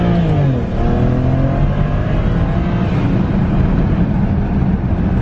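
A BMW with the N54 engine accelerates hard in first gear from about 20 on a back road, the engine note climbing quickly and loudly before holding a strong, steady drone.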